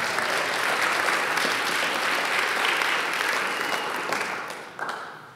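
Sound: congregation clapping hands in praise

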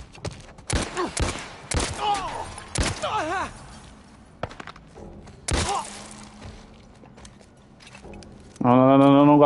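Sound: gunfire in video game The Last of Us Left Behind

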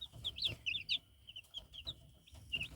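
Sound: Chinese silkie chickens clucking

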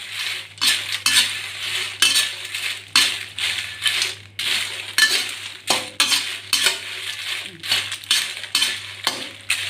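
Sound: stirring roasting chili in a pan

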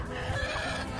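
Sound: chicken clucking

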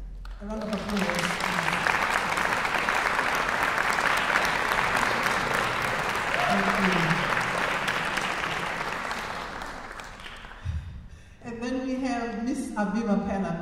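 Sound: audience applause

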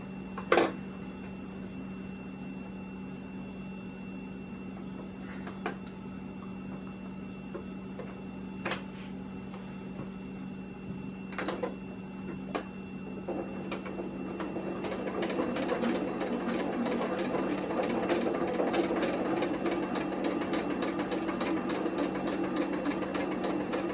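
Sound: sewing machine lock stitch on shoulder strap

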